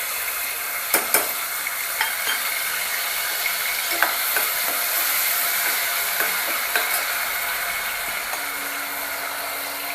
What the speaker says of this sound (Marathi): टोमॅटोची प्युरी घालूया